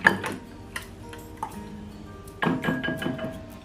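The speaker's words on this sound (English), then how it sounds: "if you don't have a whisk, you can use your fork to do this." A fork whisking egg sauce with tuna in a bowl: irregular clinking taps against the dish, a few sharp strikes then a busier cluster of rapid clicks toward the end, close and fairly quiet.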